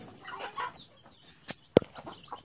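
Soft, scattered chicken clucks, with one sharper, louder cluck partway through, in a quiet outdoor setting.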